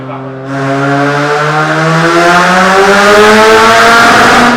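A big-turbo, straight-piped Mazda RX-7 rotary engine revs hard and loud, its rising whine climbing steadily and holding at high pitch close by.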